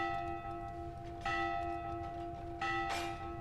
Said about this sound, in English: the ringing of a bell will awaken you in an iron-frame bed with a thin mattress